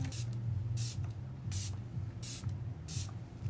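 Alba setting spray misted onto a face after shaking, heard as about five short, soft hissing bursts in an even rhythm over a low background hum, close and fairly quiet.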